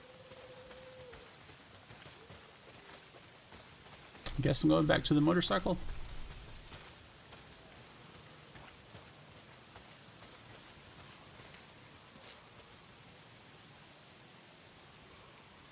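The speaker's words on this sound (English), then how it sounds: "Well, not if it's pissing down rain." Steady rain from the video game Days Gone patters on surfaces throughout, with a louder burst of game sound midway and a voice talking over it.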